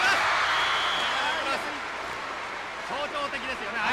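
A packed crowd of about 12,000 roars in a national stadium during a 1977 Japan–Poland volleyball match: a continuous, loud wash of cheering under an excited commentator's voice.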